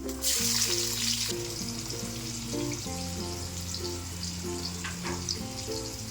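Onions fry in a pan with bay leaf, cloves and shahjeera, giving a steady close sizzle and crackle throughout, with quiet background music underneath.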